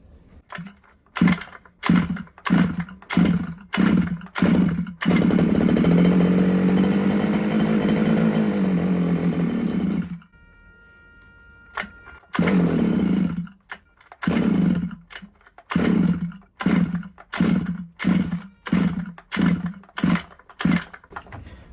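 A small nitro engine in a Losi 5ive-T RC truck, apparently flooded, buzzes in rapid bursts, then revs to a sustained high-pitched whine, cuts out briefly, and restarts with sputtering, uneven pulses.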